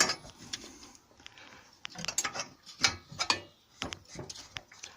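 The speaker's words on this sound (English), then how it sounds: "and then undoing this nut behind the regulator" A nut behind a water regulator being undone with a ratchet, producing quiet, close ratcheting clicks in short irregular runs, with no talking.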